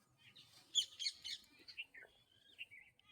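Small birds chirp and tweet in quick, irregular bursts while they are fed rice and toast crumbs. The calls are bright but fairly quiet, with a few louder chirps near the start.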